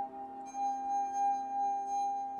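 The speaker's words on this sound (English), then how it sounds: "bowing a wine glass with your finger" A wine glass bowed with a finger sings a steady pure ringing tone with soft overtones, sustained and fairly quiet, swelling slightly after a brief dip near the start.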